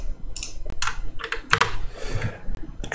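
Scattered key presses on a computer keyboard during drawing work in design software. A handful of irregular, close taps stand out over a low background hum, with no speech.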